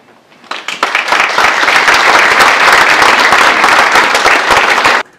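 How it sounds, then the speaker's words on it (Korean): Audience applause at an honorary doctorate degree ceremony in a university hall, a loud, dense burst of clapping that builds quickly, holds steady for several seconds, then stops abruptly. "그래서 그 대학원은 박수입니다."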